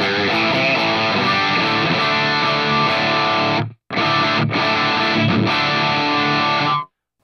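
An electric guitar with a humbucker pickup plays through the distortion channel of a NUX Amp Academy, giving loud, saturated sustained chords with two brief breaks before it cuts off.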